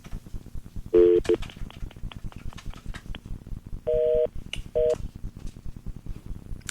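Touch-tone telephone dialing: short, loud, steady keypad beeps in separate bursts, first one tone, then two more a few seconds apart, over a quiet background.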